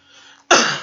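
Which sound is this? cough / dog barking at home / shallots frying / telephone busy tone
cough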